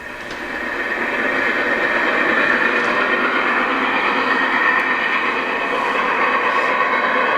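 Recorded train sound played from a button exhibit at Horseshoe Curve: a steady, broad rumbling roar of rolling railcars that swells in and holds at a constant loud level for several seconds, no talk.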